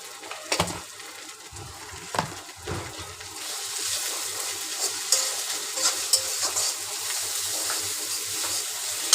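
Food stirred in a hot pan after salt and turmeric go in, for a taro-leaf dish. Scraping strokes come over a rising sizzle that grows louder and denser toward the end.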